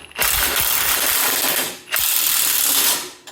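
A wrench ratchets on the sway bar of a Toyota Tundra, two close, loud bursts of rapid clicking separated by a brief pause, with no talking.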